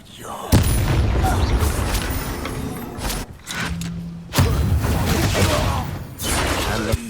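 Bombarda blasting spells going off in Hogwarts Legacy, a run of loud booming detonations with thuds and crackling debris, one sharp blast near the start and another surge midway, with brief quieter gaps between.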